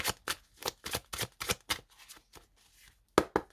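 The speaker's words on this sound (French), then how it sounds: "On y va pour 5 cartes, les Gémeaux." Tarot cards shuffled by hand, a quick run of crisp riffling flutters followed by a pause and two sharper slaps as cards are drawn and laid down, close and with no talk.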